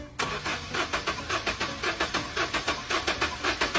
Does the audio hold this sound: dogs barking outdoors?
no